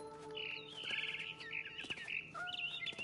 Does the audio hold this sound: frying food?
no